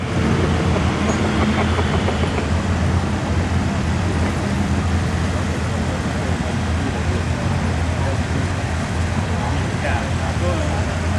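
A Massey tractor at a 2009 tractor pull roars continuously in a dense, loud engine rumble from start to end, with no break in the noise.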